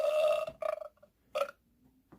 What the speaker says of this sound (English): Oh, what a weak fart that one is.